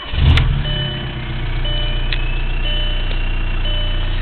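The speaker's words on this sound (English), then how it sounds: "So let me go ahead and start up the car right now." A car with an ALH TDI diesel engine cranks and fires up with a loud close burst, then settles into a steady diesel idle.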